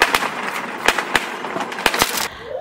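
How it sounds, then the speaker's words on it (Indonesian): Fireworks set off at a home New Year's celebration crackle and pop in a series of sharp, irregular bursts over a steady hiss, fairly loud and close, with no talk. "Ini ayahnya mau coba ngidupin kembang api"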